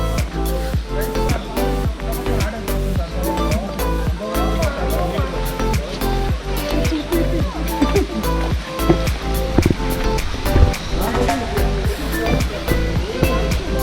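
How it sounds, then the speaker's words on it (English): Talakona waterfalls in Andhra Pradesh give a loud, steady roar of falling water that stays constant throughout, with people's voices mixed in. "just we reached the waterfalls"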